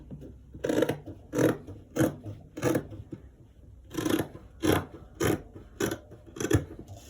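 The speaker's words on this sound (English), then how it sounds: "We are going to cut the shoulders." Scissors cut through fabric at the shoulders of a roll-collar garment, giving about eleven crisp, evenly spaced snips in two bursts, close by and fairly quiet, with no talking.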